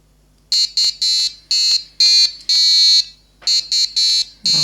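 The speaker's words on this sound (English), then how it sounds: "The alarm is on, the first one." An electronic RTC melody alarm sounds in loud, bright bursts of high beeping tones, a quick irregular pattern of short and longer pulses with brief gaps, played alone and close.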